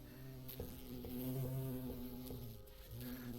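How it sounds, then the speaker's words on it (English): A bee flying around flowers in the video game Cineris Somnia, a soft steady buzzing hum that wavers slightly in pitch, heard alone and fairly faint. "A bee is flying around flowers."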